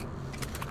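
Weapon reloading in Metro 2033 Redux, a short metallic clatter of jangling parts over a steady low rumble, close and brief.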